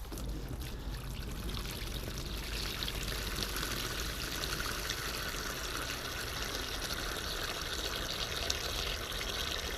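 Water rushes and sputters from a farm supply line unused for about three years as it clears out air and debris, a steady, gushing stream with no talk.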